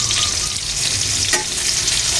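An egg fries in a pan with a loud, dense, steady hiss and crackle, plus one brief sharper pop near the middle.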